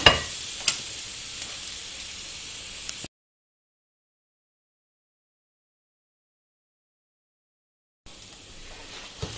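Garlic frying in hot oil in a pan, being stirred, gives a steady close sizzle with occasional scraping; the sound cuts out for a few seconds mid-clip, then the sizzle resumes.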